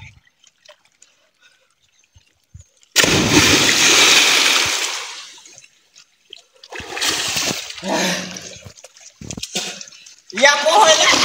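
A loud splash as someone jumps into a river for a morning swim, a big broad burst of churning water followed by splashing and trickling, with voices talking around it.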